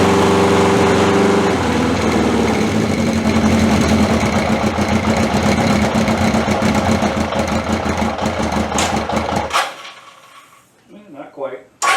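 A Honda CB750 K motorcycle engine runs loud and steady for about nine seconds, then cuts out abruptly, leaving faint sputters and quiet handling noises before a brief burst at the very end.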